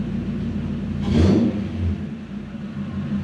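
A Lexus LS400 engine, under diagnosis for an air flow meter fault, runs at a steady low idle with one brief swelling rev, heard close and alone.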